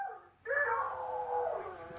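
A dog heard on an old tape recording gives a drawn-out, whining bark that slides into a howl, sustained and faint, with a thin background hiss.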